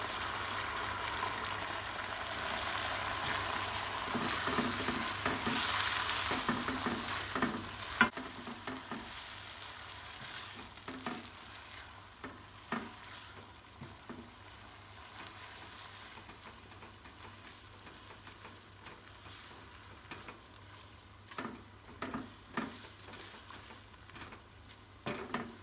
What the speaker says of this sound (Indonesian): Kalau udangnya sudah mulai merah, masukkan mie. Ini saya pakai mie basah ya.